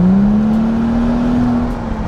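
BMW M2 fitted with an M Performance exhaust accelerating, a loud close engine drone rising steadily in pitch over about two seconds, with no voices.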